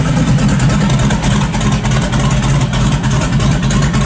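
A 1957 Chevrolet 3100 pickup with an LS1 V8 and electric exhaust cutouts rumbles loudly and continuously, a deep throaty engine roar held steady and close with no talk.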